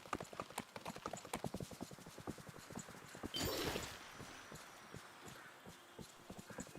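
A horse trots along in Disney Dreamlight Valley, its hooves striking in a steady, even clip-clop rhythm. A brief swell of a softer effect sounds partway through, and the hoofbeats then continue.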